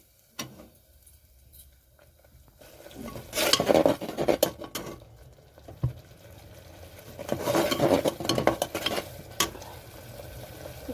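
Mutton liver masala cooked in a pressure cooker: metal spoon scraping and stirring against the pot in close, loud bursts, with clinks and a quiet sizzle between strokes.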